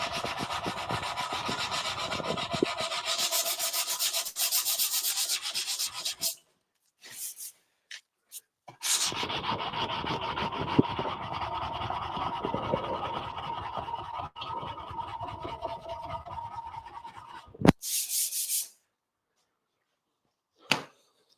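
Aluminum being sanded toward a fine finish with 320 to 400 grit, a steady close rubbing rasp in long passes broken by brief pauses and a few short bursts near the end.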